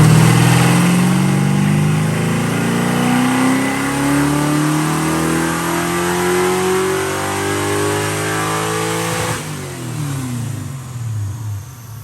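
An SN95 Mustang engine on a full-throttle pull, loud and close, rising steadily in pitch as it revs out before a shift and a drop in tone near the end.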